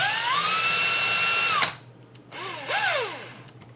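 A power drill whirs steadily at close range, cuts off, then gives two shorter bursts, its pitch rising and falling as screws are driven into a TLR 8ight T 4.0 truggy kit.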